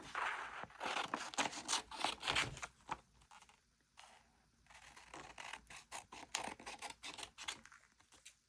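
Scissors cut through green paper for a gluebook, giving a run of close, crisp snipping and rustling strokes in uneven bursts, with a brief pause midway before the cutting resumes.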